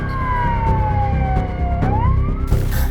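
A fire engine's loud wailing siren sweeps slowly down and back up in pitch over a steady rumbling engine at night, with sharp clicks and a burst of noise near the end.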